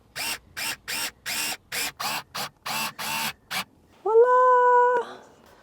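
A Fanttik S1 Pro electric screwdriver in short repeated bursts of driving screws, about a dozen quick whirring pulses close up, then a single brief electronic tone.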